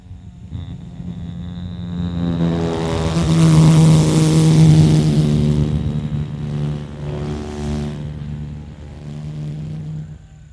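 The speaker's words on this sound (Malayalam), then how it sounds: "നമുക്ക് ഈ ഒറ്റപ്പങ്കയുള്ള ചില വിമാനങ്ങൾ പോകാറുണ്ട്. നമുക്കതിൻ്റെ ശബ്ദം ഒന്ന് കേൾക്കാം." A single-propeller airplane passes overhead, its droning engine tone swelling to a loud peak midway and then fading again, heard alone.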